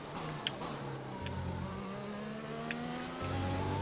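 Formula 1 race car engine in the F1 2020 video game during a Bahrain Grand Prix qualifying lap, revving hard with rising and falling pitch through gear changes, loud and unbroken with no voices.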